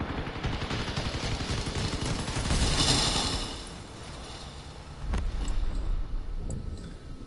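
Dense vehicle weapon gunfire in the CrossOut combat game, a continuous loud rattle of rapid shots with rumbling engine noise beneath and a few sharper impacts near the end.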